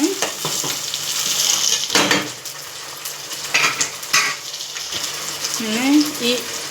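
Tomato and onion paste frying in a pan, a steady hiss of sizzling with scraping stirs and clinks of a utensil against the pan, close by, with a voice speaking briefly over it.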